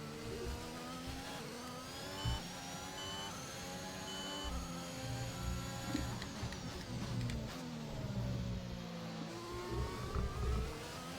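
Formula 1 car engine in a racing video game at the Japanese Grand Prix, whining and revving steadily with rising and falling gear pitches, loud and continuous without any voices.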